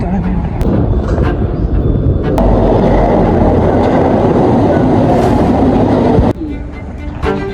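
A Marseille metro train runs with a loud, steady rumble and broadband roar close by, which ends in a sharp drop near the end, and a voice talks over part of it.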